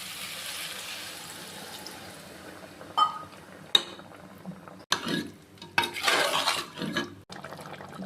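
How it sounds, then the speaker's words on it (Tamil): Water splashes and pours into a metal pressure cooker for gravy, with a few clanks of utensils, moderately loud and close, with no talking. "இப்போ கிரேவிக்கு தேவையான அளவு தண்ணி ஒரு டம்ளர் ஊற்றுறேன்"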